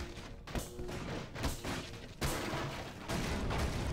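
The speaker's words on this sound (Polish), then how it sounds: "Coś wybuchło." Heavy booms and blasts in the video game Garry's Mod, a run of loud thudding explosions that land every second or so and keep rumbling.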